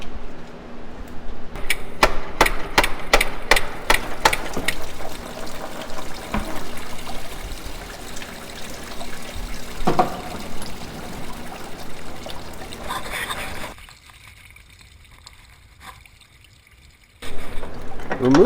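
Coolant splashing and trickling out of a Honda Insight engine after the water pump is tapped loose, with metallic clicks and taps early on, then a quieter stretch before the noise returns near the end.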